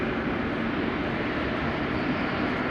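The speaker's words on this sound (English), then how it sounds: "KLM flight 515 is on the roll." A KLM airliner rolls down the runway for takeoff at Amsterdam Schiphol, its engines a steady, broad roar held at moderate distance for a few seconds with no voices.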